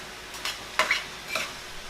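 A spoon stirs red beans and rice with lime juice in a pot. Three or four soft, wet scraping strokes come up close over a quiet background.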